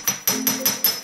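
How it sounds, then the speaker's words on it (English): Hammering the end of a metal vine ring to flare it, six sharp ringing strikes in a quick even rhythm, close and clear with no talk. "I'm just hammering the end to about 3/4 inch."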